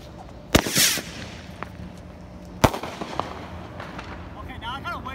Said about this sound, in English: we were out lighting fireworks